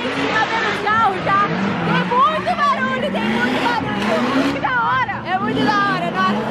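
Two drift cars at a drift event in Balneário Camboriú rev loudly, their engine notes rising and falling repeatedly. Crowd chatter runs underneath.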